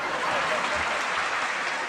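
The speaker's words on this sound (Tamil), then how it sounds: "கைதட்டு எப்படி வந்துச்சு?" Audience applause at a Tamil Diwali debate stage show, a short, steady burst of dense clapping from a large crowd.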